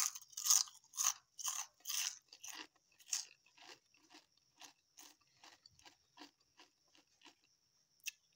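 Close, crisp crunching of fried Chinese pechay being bitten and chewed, a rapid series of sharp crackling bites that gradually soften and thin out over several seconds, ending with one last small crunch, no talking.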